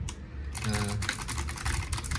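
A mechanical keyboard with purple switches clicks in quick, uneven bursts of keystrokes, close and fairly loud, starting after a short pause.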